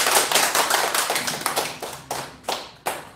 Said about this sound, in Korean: 우리 여러분들 박수 한번 보내주세요.